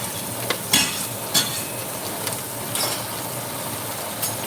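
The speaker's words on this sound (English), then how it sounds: "All right, so sauteing the onions." Onions sauté in light oil with a steady, dense hiss close by, punctuated by a few brief scraping strokes from stirring; no one talks.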